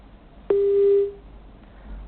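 A single steady electronic tone sounds for about three-quarters of a second, like a telephone line signal after a call drops, then quiet line noise.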